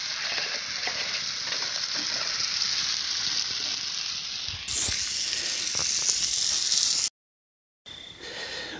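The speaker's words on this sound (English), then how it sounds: "Some sausage stuff, cooking away." Sausages frying in a pan at a campsite, a steady close sizzle and crackle that continues without pause before a brief cut and then resumes.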